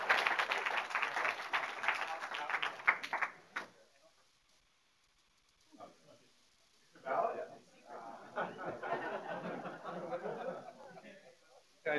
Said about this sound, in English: Again, a round of applause for these guys.